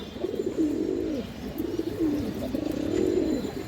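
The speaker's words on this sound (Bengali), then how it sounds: "এই দেখেন নরের ডাকটা দেখেন দর্শক" A male khora gola pigeon cooing close by, a series of low, rolling coos repeating in steady phrases over a faint background hiss, with no voices.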